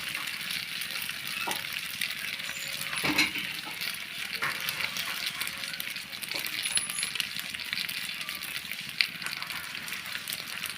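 Pasta being stirred gently in a pan after Maggi masala is added, a steady broadband sizzle with a few soft scrapes and one sharp clink, no talk.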